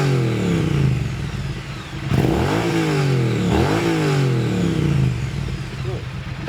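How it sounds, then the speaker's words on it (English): A Triumph motorcycle engine rumbles and revs with a throaty exhaust note, rising and falling in pitch, loud and close. "I got a comment on the exhaust note of the Triumph"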